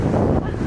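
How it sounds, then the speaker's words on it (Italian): Pacific surf on the main beach at Las Peñitas, Nicaragua, a steady loud roar of waves buffeted by heavy wind rumbling across the microphone. "sono finalmente tornata tra le onde del Pacifico"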